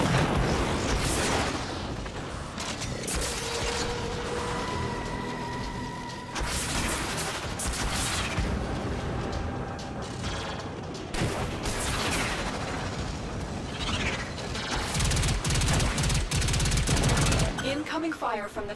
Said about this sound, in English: Incoming fire from the Fomorian